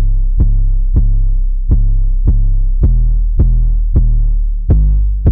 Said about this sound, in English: And that plays with this 808.